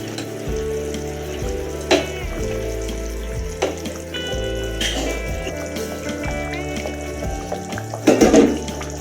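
Fish pieces slide into a simmering Tamil-style fish gravy, giving a steady bubbling sizzle with a few soft splashes and clinks, and a louder burst near the end.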